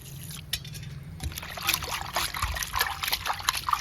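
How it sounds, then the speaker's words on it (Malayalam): Water trickles and splashes over cut chooda fish pieces being washed for a spicy pickle. Close, uneven pouring and sloshing builds and becomes busier toward the end, with some handling clatter in a kitchen. "ചൂട കഴുകാനായിട്ട് നമുക്ക് വെള്ളം ഒഴിച്ചു കൊടുക്കാം"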